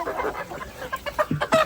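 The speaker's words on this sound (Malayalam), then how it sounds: "ഇവിടെ കൊറേ കോഴികളൊക്കെ ഉണ്ട്" Chickens clucking in a coop at a family home, several birds giving close, choppy clucks and short calls in quick irregular bursts.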